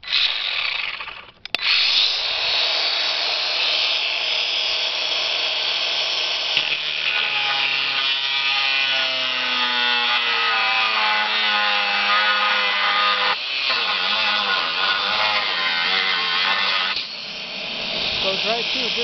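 Cordless angle grinder bought on Amazon cutting through material, a loud sustained whine with shifting grinding tones and a brief dip early on, speech faintly underneath.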